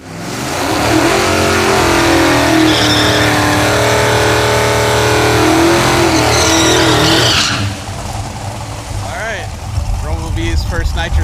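A Hemi-powered gasser drag car idles and revs loudly with its nitrous system armed, a dense steady engine roar for several seconds that drops off sharply, followed by lower rumbling with faint voices.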